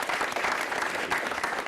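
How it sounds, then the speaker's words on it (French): An audience breaks into applause after a speaker reports six schools opened across West Africa, a brief, dense burst of clapping at close range. "Ça mérite des applaudissements, s'il vous plaît."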